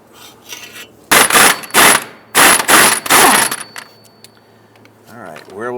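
A breaker bar ratchets on a rusty nut and bolt of a 2000-2006 Toyota Tundra front upper control arm, sprayed with rust penetrant. Several loud, close metallic clicking bursts come in quick succession, then fade to quieter handling noise.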